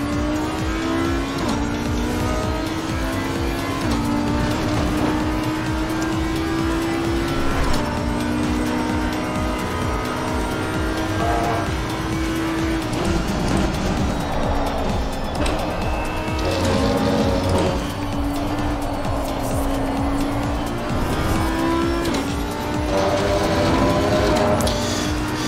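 An Audi R8 Evo II race car in Assetto Corsa Competizione, its engine droning loud and steady under throttle with repeated pitch steps through gear changes and occasional tire squeal, continuous and uninterrupted.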